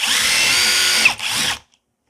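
Brushless impact driver whirring loudly as it drives a screw hard enough to snap the head, the motor note dipping briefly before it spins on and then cuts off abruptly.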